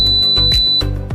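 A hydraulic welfare seat for wheelchairs in a commercial vehicle gives one steady, piercing electronic beep of under a second as it reaches the ground, sounding over a loud, rhythmic thumping background.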